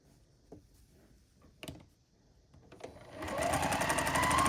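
Quilt fabric is stitched on a sewing machine. A few soft handling clicks and taps come first, then a close, fast, rhythmic mechanical stitching chatter runs to the end.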